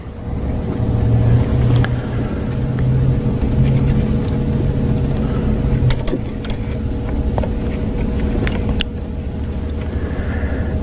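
Engine of a 2003 Ford Thunderbird idles steadily nearby, a continuous low hum with mechanical whir and occasional faint clicks, no voices.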